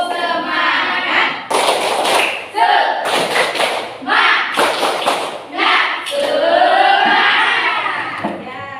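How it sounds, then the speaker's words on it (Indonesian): Classroom of pupils doing the 'tepuk semangat' spirit clap, bursts of loud rhythmic hand clapping in several quick rounds, with voices chanting between them. "1, 2, 3, tepuk semangat."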